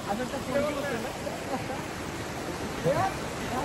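A river flowing beneath a small bridge gives a steady broadband rush of water, moderately loud, while people talk faintly over it.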